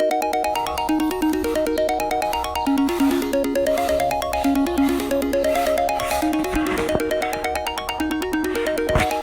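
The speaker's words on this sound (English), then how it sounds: "Radiate is the ringtone." An iPhone 6S Plus plays its Radiate ringtone, a bright, repeating arpeggiated melody of rising and falling chime-like notes that loops steadily at a loud, even level with no talk over it.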